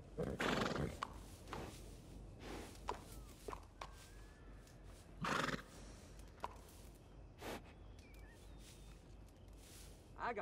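A horse in Red Dead Redemption 2 whinnies loudly near the start, followed by hoof clops, snorts and scattered footsteps over a quiet ambient background.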